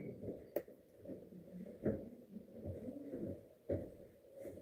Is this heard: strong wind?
no